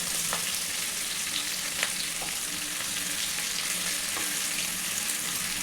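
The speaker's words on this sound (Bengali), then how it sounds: "এবারে একটু এটাকে ভাজা ভাজা করার জন্য একটু ফ্রাই করবো কিছুক্ষণ।" Dried red chilli, cumin, chopped onion and tomato fry in hot oil, a dense, continuous sizzle and crackle with faint stirring taps, heard alone without any talk.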